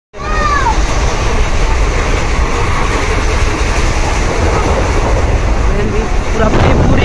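A train pulling in at platform 6 of Bhubaneswar railway station, a loud, close, continuous rumble of wheels on rails with squealing metallic tones, filling the whole stretch without pause.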